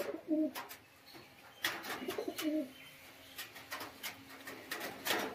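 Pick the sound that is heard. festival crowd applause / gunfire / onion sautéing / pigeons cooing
pigeons cooing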